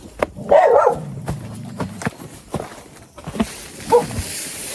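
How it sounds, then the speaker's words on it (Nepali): A dog barks in a hillside village in Nepal, a few sharp, fairly close barks with a short yip among them, mixed with faint footsteps and outdoor background. "कुकुरले भुक्छ"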